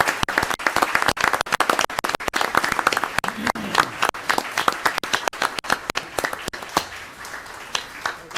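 Applause at a municipal agglomeration council meeting in La Tuque, a room of people clapping with sharp, distinct claps in a fairly sparse, uneven rhythm that carries on for several seconds.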